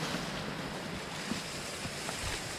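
A mountain stream in the rocky Mi San gorge rushes steadily in a continuous, even hiss of flowing water, faint and unbroken, with no voices.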